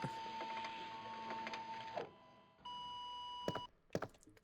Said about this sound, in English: And here we got a fax.